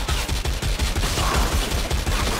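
The Rattling Gunner in Warhammer End Times Vermintide fires a rapid stream of gunfire, a continuous rattling machine-gun burst with steady quick pulses, loud and close, with no talking.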